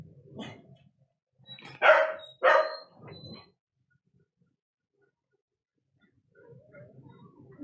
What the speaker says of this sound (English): There will be some more dog noise in the background.